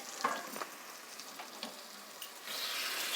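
Tomato and goat head pieces fry for curry in a pan with a soft, steady sizzle, broken by faint clinks and scrapes of stirring and a brighter hiss near the end.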